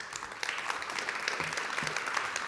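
Fairly faint, steady applause from an audience welcoming a presenter at a startup pitch event, even clapping with no clear speech.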